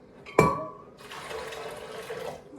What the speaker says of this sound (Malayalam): വെള്ളം ഒഴിക്കുക.